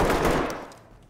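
A short burst of rapid gunfire in the tactical shooter game Ready or Not, loud at first and fading within about a second.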